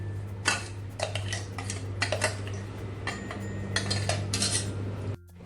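Chopped fresh turmeric, ginger and green chilli dropped and scraped into a bowl for pickle, a series of sharp clinks and taps from a utensil against the dish over a low steady hum, close up and without talk.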